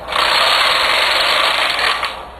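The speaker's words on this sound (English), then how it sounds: "And I'm going to knit across and put the zigzag row on." A knitting machine carriage is pushed across a row for a zigzag row in drop stitch lace, with the ribber set for plain knitting at the tightest tension, making a steady loud mechanical rattling whir that stays continuous throughout.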